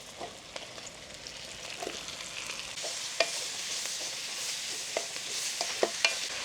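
Shredded cabbage frying in a pan over high heat, a steady broadband sizzle with scattered sharp clicks and scrapes of stirring, fairly close and with no voices.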